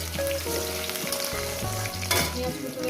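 Chopped onion and a bay leaf sizzling in hot oil in a pan with cumin seeds, a steady close frying hiss with a brief stirring scrape, no voices.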